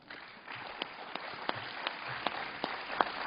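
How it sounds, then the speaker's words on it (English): An audience applauds at the closing plenary of the 2013 Global Green Growth Summit. Steady, moderate clapping fills the room, with a few sharper individual claps standing out. "Please give him a warm round of applause."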